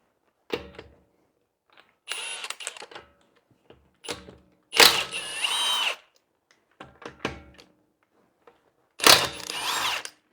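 Impact wrench with a 19 mm half-inch drive socket working on a Honda CR-V during ball joint removal, several short loud bursts of rattling hammering separated by pauses, close up with no talking.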